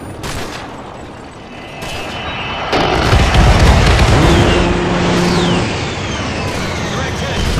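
Gun-run explosions in the Call of Duty Modern Warfare 3 campaign: loud, dense booming and rumbling barrage that swells midway and keeps roaring, with gunfire crackle and high whistling streaks over it.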